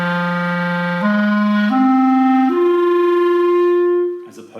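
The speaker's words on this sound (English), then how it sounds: "The first one is flutter tongue or frullato" Clarinet played with flutter-tongue (frullato) technique, sustaining a rising sequence of four held notes in the low register, each a steady buzzy tone, loud and close, alone, with a brief noisy release at the end.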